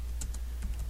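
A few quick keystrokes on a computer keyboard while entering a router command, light clicks spaced in two short bursts over a steady low hum.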